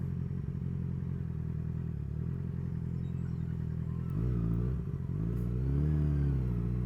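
A motorcycle engine runs steadily at low revs while the rider rolls off the throttle through a U-turn. The tone is a continuous, close rumble that dips, then lifts and wavers slightly near the end, with no talking.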